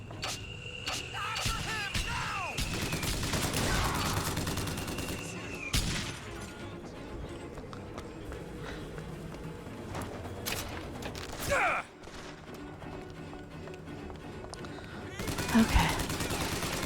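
Enemy gunfire aimed at the player in a shooter video game, scattered shots and mechanical clanks under a busy game soundscape with occasional louder bursts.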